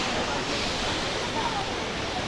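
Steady, full roar of the Jogini waterfall near Manali, with ice formed around the falling water, a constant rushing wash that stays even throughout, with no voices.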